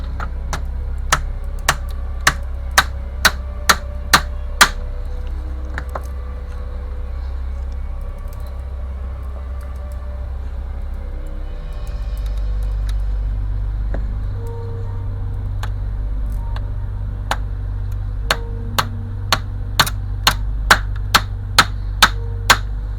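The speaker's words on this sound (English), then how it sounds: "we need to drive some nails in. Yes, we need 2 nails on either side." Nails hammered into a wooden 1:50 scale OCCRE Flying Dutchman ship model kit, sharp rhythmic taps in two quick bursts at the start and end with a quieter, low rumbling stretch between them.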